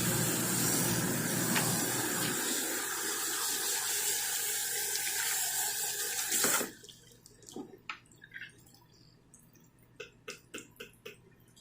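Tap water runs steadily and loudly while a girl's hair is washed to remove glue, then cuts off, leaving a string of quiet drips and small splashes near the sink.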